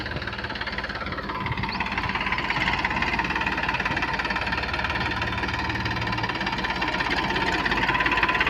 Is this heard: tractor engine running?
yes